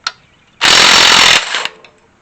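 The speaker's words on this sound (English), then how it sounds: "go in there and then take an impact wrench." An impact wrench with a 15/16 socket rattles off the pulley of a Ford 1G alternator in one loud, close burst of under a second, followed by a quieter tail.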